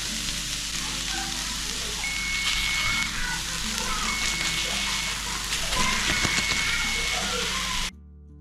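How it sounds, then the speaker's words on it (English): Ground beef fries in a cast iron skillet alongside zucchini, peppers and onions, a steady close sizzle and hiss with occasional stirring scrapes that stops abruptly near the end. "And now we're going to add that log of ground beef."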